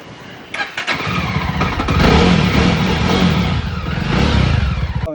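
A Jawa motorcycle with a repaired regulator-rectifier wiring fault cranks with a few quick clicks, then fires up and settles into a loud, close, steady idle with slight revving.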